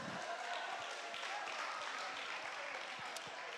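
An audience claps together in a room, a sustained, fairly soft patter of many hands without cheering.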